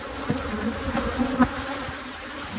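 Honey bees buzzing around nuc hive frames full of honey, a close, uneven drone with individual insects zipping past the microphone in short, louder passes.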